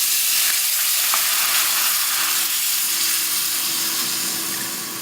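Coconut milk goes into a hot pan while cooking jerk salmon rasta pasta, setting off a steady, loud sizzle and bubbling that fades slightly toward the end, heard up close with no talking.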